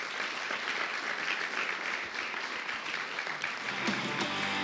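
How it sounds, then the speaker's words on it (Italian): Studio audience applauding a guest, a youth football club director, on a televised sports talk show: dense, steady clapping that fills the whole stretch, moderately loud and close, without speech over it. "facciamo un applauso a Danilo."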